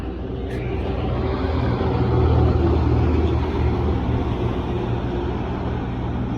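A heavy vehicle rumbles by at a distance, its low engine drone swelling slightly and fading over several seconds, with no talk.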